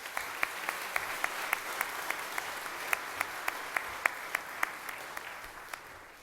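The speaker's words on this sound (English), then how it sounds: "Honor our senior scholarship winners and sponsors with one more round of applause." Applause at a 2018 FFA banquet honoring senior scholarship winners and sponsors: a soft, even wash of clapping runs throughout, with sharp individual claps landing at a steady, regular beat on top.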